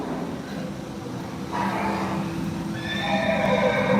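A horse neighing sound effect plays on an amusement park ride. Several drawn-out whinnies stand out over steady loud ride and crowd noise, and a second, brighter whinny comes near the end.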